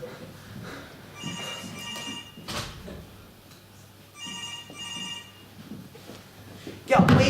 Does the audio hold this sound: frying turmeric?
no